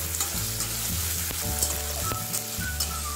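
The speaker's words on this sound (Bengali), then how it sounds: "একটু ফ্রাই করে নেব, সেজন্য প্রথমেই দিয়ে দিচ্ছি গাজর আর বিনসটা" Chopped carrots and beans fry lightly in a pan over a medium flame, a steady close sizzle running throughout, broken by a few sharp clinks and scrapes of stirring, with no voices.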